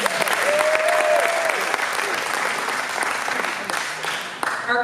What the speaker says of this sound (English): And let's give Bud a big round of applause, please.